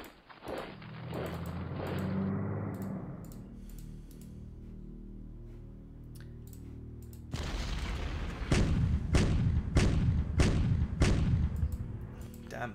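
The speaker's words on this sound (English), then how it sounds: "Oh, it's artillery." Artillery fire in the wargame Decisive Campaigns: Ardennes Offensive, a series of heavy booming blasts arriving in a rapid cluster after a quieter rumbling stretch, loud and close.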